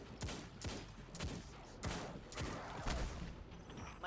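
Gunfire in the Destiny 2 video game, with a string of sharp shots in uneven bursts over a few seconds, each one ringing briefly, heard fairly faint in the game mix.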